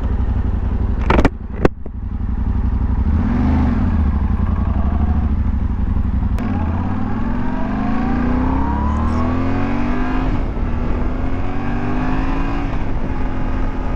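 2024 Yamaha Tenere 700 motorcycle being ridden, engine note rising and falling through repeated accelerations and gear changes, heard close over steady wind rush.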